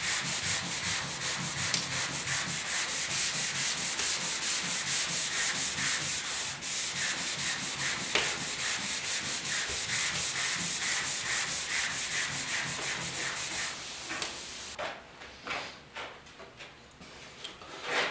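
Sandpaper rubs lightly over the painted door of a 1956 Mercury, brisk, steady back-and-forth strokes close up for about fifteen seconds, then a few slower scattered rubs as the work eases off.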